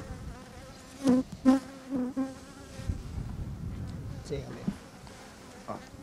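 Honeybees at an open hive in a village apiary in Tekirdağ give a low, continuous buzzing hum, with a few sharper, louder buzzes passing close by, while someone speaks now and then.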